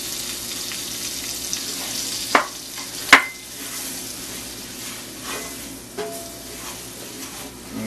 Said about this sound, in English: I'm going to stir in about 3 tablespoons of flour. I'm going to kind of start the sauce off here.